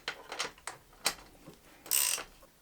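Ratchet clicking in quick bursts while 10 mm wheel nuts are tightened, a series of sharp mechanical ticks and rattles up close with a louder final burst.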